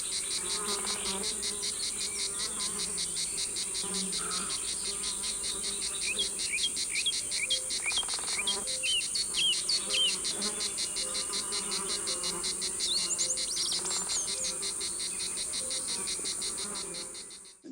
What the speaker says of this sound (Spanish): si los sustituimos por la sierra de las cigarras, hacen que el calor de mediodía llegue al bosque